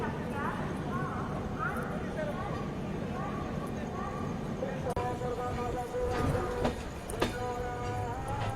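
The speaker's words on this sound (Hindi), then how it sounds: "मेमू का अराइवल हो रहा है प्लेटफॉर्म नंबर 3 पे।" A MEMU train pulls into platform 3 at Khurda Road station in Odisha on a quiet evening, a steady rolling rumble with metallic squeals and clanks building toward the end over constant low background noise.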